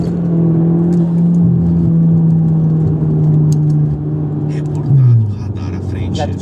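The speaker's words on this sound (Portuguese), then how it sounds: "Agora acelerando, vamos ver, sem passar da velocidade máxima" A car engine pulls steadily under acceleration, its hum holding and then rising briefly near the end as it revs, heard from inside the cabin while someone talks over it.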